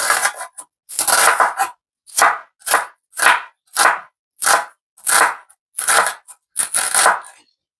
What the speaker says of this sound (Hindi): और ये मैं कर रहा हूँ प्याज की कटिंग, स्लाइस प्याज काट के।